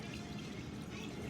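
Homemade hand sanitizer is poured into smaller containers in a steady, soft liquid trickle, close and quiet, with no one talking.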